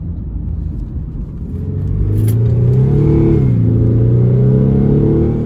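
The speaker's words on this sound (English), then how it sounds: "I gave you the cold start and I gave you a little flash of acceleration as well" A 2008 Infiniti G35 fitted with a cold air intake idles with a steady low rumble, then revs up into a louder, rising engine roar that holds strong to the end.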